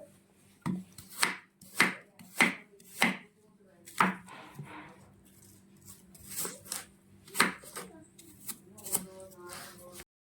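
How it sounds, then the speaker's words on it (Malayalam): An apple is cut into small pieces with a knife on a board for a healthy ABC juice, giving a series of crisp, close chops at an uneven rhythm, some quick and some spaced out. "ആപ്പിളിങ്ങനെ ചെറുതായിട്ട് അരിഞ്ഞുണ്ട്."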